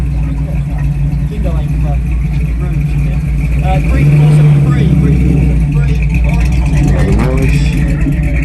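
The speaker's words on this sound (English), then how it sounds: "GMC pickup truck." A GMC pickup truck engine rumbles steadily at low revs as it pulls away from a retro car show in Margate, with a swelling deeper note midway and people talking over the engine.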